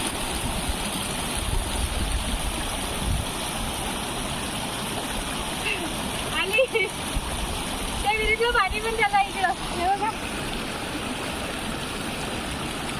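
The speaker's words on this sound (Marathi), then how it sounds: "डायरेक्ट विहिरीतून पाणी येते ते विहिरीतला झरा" Spring water from a well flows and splashes in a steady, rushing stream close by, with people talking briefly over the constant wash of water.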